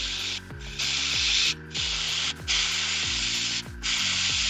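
An airbrush spraying very thin paint for a gradient: steady bursts of soft airy hiss, each about a second long, broken by brief pauses as the trigger is eased off, with a low background hum beneath.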